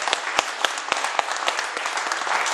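Brisk applause from a church seminar audience, many hands clapping at once, with a few sharper individual claps standing out against the dense patter for a couple of seconds.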